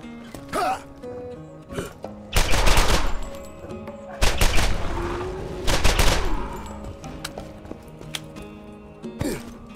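Gunfire aimed at skags in Borderlands: loud bursts of shots and heavy volleys arrive in clusters across nearly ten seconds, mixed with creature snarls and game effects, separated by quieter gaps.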